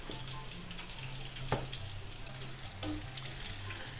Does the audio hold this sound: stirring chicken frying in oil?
yes